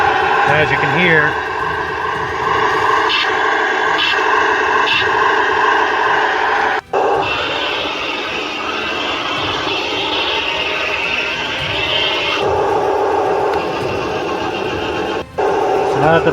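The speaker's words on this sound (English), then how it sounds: "now that the tank is on and running" A tank engine in a video game runs as a continuous droning rumble with electronic hums and tones layered on top, while a person talks over it throughout.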